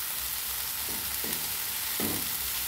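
Cabbage frying in a pan gives a steady hiss, with three short scraping stirs cutting in near the middle and end.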